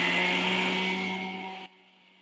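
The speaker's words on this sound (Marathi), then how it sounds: "मिक्सरचा आवाज जरा येतो." A kitchen mixer grinder whirs steadily as it grinds whole moong dal into dosa batter. The loud, continuous motor drone runs for about a second and a half, then cuts off abruptly.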